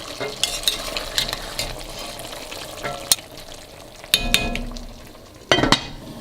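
Lamb, onion and rice plov ingredients stirred in a hot pot, a frying sizzle under repeated scraping and clinking strokes of a utensil, with a few louder bursts of stirring, close and without speech.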